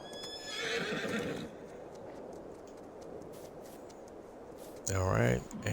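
A horse in the video game Farming Simulator 22 gives a loud neigh, followed by a stretch of clip-clopping hooves and another sharp whinny at the end.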